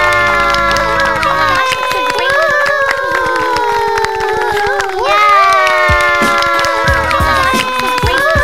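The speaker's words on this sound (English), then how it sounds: "Let's give her a big round of applause." A crowd cheers and claps for a bride at Coach Abby and teacher Mike's wedding, loud and continuous, with music and raised voices woven through the celebration.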